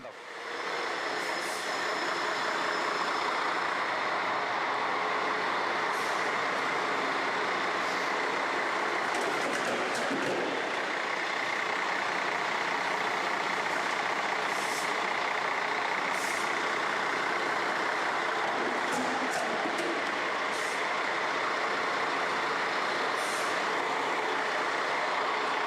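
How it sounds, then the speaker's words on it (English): A 6-ton truck rolls over a piece of plastic, producing a loud, steady, broadband rumble that holds for the whole stretch with a few brief sharper hisses along the way. "a 6-ton truck just went over this piece of plastic"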